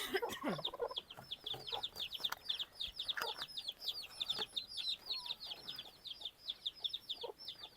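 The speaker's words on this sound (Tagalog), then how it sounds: "Doon sa kabila naman may sisiyo din kami." Chicks peep in a coop in quick, high repeated chirps that carry on throughout, with a few louder clucks and scattered bumps near by.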